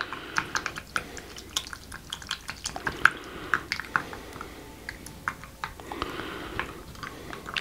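Active dry yeast being stirred into liquid for bread dough, producing soft, irregular clinks and light splashing taps at close range, continuous throughout with no speech.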